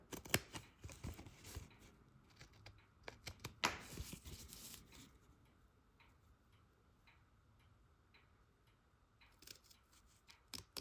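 Scissors snip through perforated paper for a cross-stitch ornament, making quiet, sparse clicking cuts in a cluster early on, a softer lull, then a few more snips toward the end.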